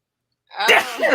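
One close, sharp sneeze bursts out of silence with a quick intake and release.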